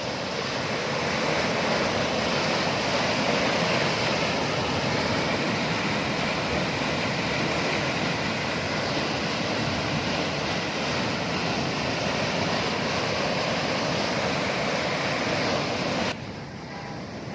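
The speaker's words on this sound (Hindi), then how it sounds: "यहाँ पे खौफ आ रहा है ये आवाज़ सुन के पानी की" Loud, steady roar of rushing water in the large Fateh Canal near Chishtian filling the whole clip, a continuous broadband churn of fast current, with no voices over it.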